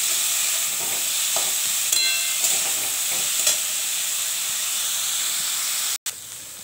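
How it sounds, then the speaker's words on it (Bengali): Steady hiss and sizzle of kakrol (spiny gourd) and potatoes frying in a pan, with a few soft stirring scrapes and clinks near the mic; no talking. "এই যে ভাজা হচ্ছে, কাঁকরোল দিয়ে আলু দিয়ে ভাজা হচ্ছে।"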